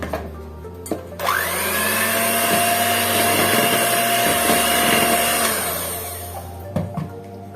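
An electric mixer beating batter for a chocolate jar cake: a loud, steady whirring drone close by that starts up, runs for several seconds and then winds down.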